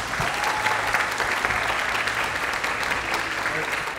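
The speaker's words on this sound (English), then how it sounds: "I would like you all to give them a round of applause." During a live contest show, an audience applauds the contestants with steady, moderately dense clapping that holds at an even level, with some voices murmuring faintly underneath.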